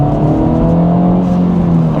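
A 2024 Acura Integra Type S pulls hard at full throttle on a highway, its engine note holding a loud, steady, rising drone from inside the cabin with no pauses.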